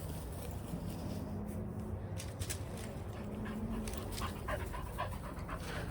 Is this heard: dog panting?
yes